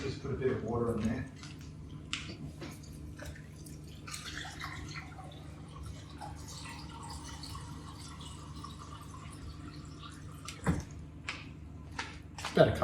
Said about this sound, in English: I'll just put a bit of water in there.